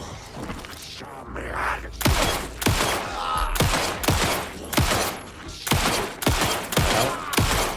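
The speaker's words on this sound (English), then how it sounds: "I'm shooting everything but the..." Gunfire rings out in the video game Alan Wake II, with about a dozen sharp, loud shots in an irregular rapid series, a brief low rumble between them.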